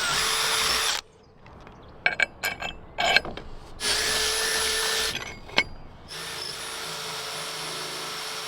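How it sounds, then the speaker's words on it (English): A power drill bores holes in catamaran chainplate work, the bit somewhat blunt and popping through at the end: two sustained whining runs of drilling, separated by short bursts, scrapes and knocks, then a third run. "I'm not sure if it's the drill bit being a little bit blunt, but it just sort of pops through the end"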